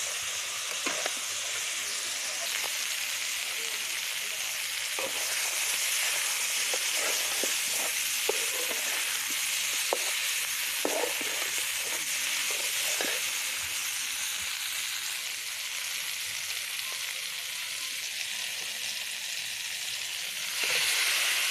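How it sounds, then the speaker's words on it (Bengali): Vegetables sizzle steadily in a pan over a clay stove, with a hissing frying sound held throughout and occasional light scrapes of stirring, close and continuous. "আমি বেশ কিছু সময় ভাজা ভাজা করে এভাবে কষিয়ে নেবো"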